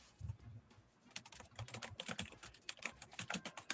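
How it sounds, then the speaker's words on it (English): Quiet, rapid typing on a computer keyboard with irregular bursts of key clicks, close and faint, and no one speaking. "Now she's typing like Kermit."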